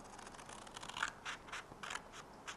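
Scissors snipping around a cardboard box shape for a craft project, a few short separate cuts and scratchy rubs, quiet and close with no talking.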